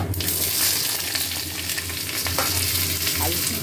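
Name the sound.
potatoes frying with spices in a wok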